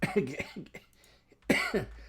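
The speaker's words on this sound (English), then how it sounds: "Sorry about the cough, guys. I have a dry cough." A few short, dry coughs sound close to the microphone, with a brief pause between them.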